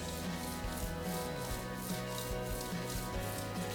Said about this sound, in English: Let me rub it on the hood where I haven't done it